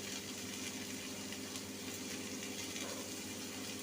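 Winter vegetables fry in a pan with spices for a vegetarian pui shak chorchori, giving a faint, even sizzling hiss that carries on steadily without a break.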